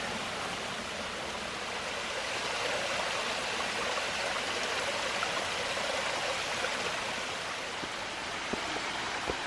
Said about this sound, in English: Beautiful little stream right here.